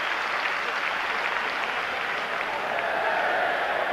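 Football stadium crowd at Everton's ground in 1992 applauding a substitute coming on, a steady, dense wash of clapping and crowd noise throughout, broad and sustained with no break.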